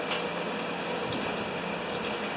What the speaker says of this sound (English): We can let that dribble a little bit.